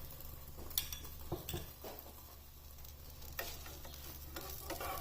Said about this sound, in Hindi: ऊपर इस तरह देसी घी डाल देना है।